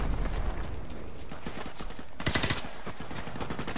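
Gunfire rattles through Call of Duty Modern Warfare Remastered, quick clusters of shots under constant battle noise with a louder burst about midway.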